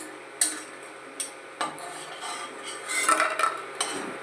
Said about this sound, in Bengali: এবার বড়িটা আমি তুলে রাখছি।